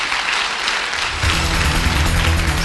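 Congregation applause at a virtual church conference, a dense, steady wash of clapping that swells louder partway through and continues to the end, with a low murmur of voices beneath.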